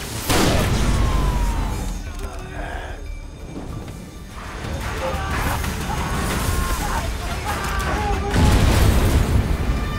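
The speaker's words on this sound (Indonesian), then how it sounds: "ledakan di dalam kapal yang bersumber dari tembakan misterius" A loud, dense explosion on a ship in a film booms out with crashing debris and rumbling, followed by layered chaotic noise and another heavy blast near the end.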